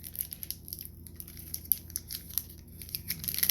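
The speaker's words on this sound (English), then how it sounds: "You need scissors." Scissors cutting open the plastic packaging of a Pokemon card tin, a close series of crisp snips mixed with crinkling plastic, growing busier toward the end.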